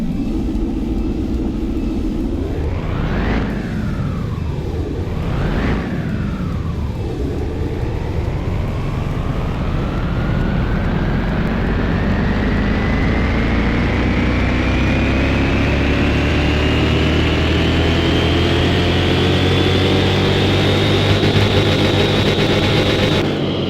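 A car engine on a dyno in Car Mechanic Simulator 2021, inside a noisy room, revs up twice in quick swells, then climbs steadily and loudly through a long, sustained pull, with no talking.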